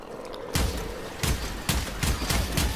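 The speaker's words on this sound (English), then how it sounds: "Automatic shotgun!" An automatic shotgun in the game Warframe fires four heavy blasts in quick succession, each a loud booming thump over a steady background of game noise.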